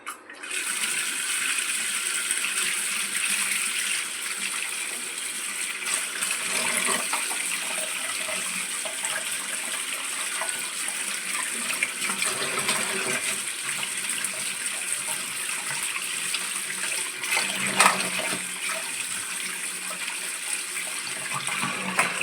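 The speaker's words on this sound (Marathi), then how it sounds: "आता याला स्वच्छ धुवून घेऊया आपण" Sea crabs are washed under running tap water, a steady loud gush and splash of water in a basin continuing throughout, with occasional clatter and no talking.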